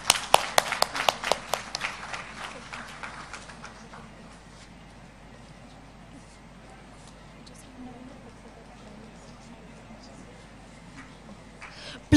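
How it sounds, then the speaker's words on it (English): Audience applause at a conference felicitation ceremony for health dignitaries, with loud scattered claps for the first few seconds, then fading into a low murmuring room tone with faint movement. "Please welcome them with a huge round of applause."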